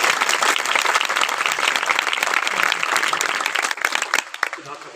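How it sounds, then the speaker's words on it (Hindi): A congregation at a Christian memorial service in Sargodha claps loudly in praise of Jesus, a dense, energetic burst of many hands that thins toward the end, with voices calling out over it. "एक बार यीशु दी जलाल च जोरदार तालियां बजाओ"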